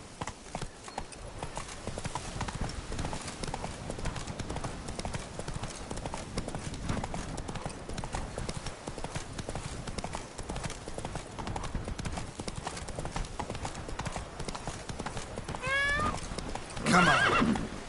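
Roach, a horse in The Witcher video game, gallops with steady rapid clip-clop hoofbeats throughout, ending with a loud whinny near the close; no talk over it.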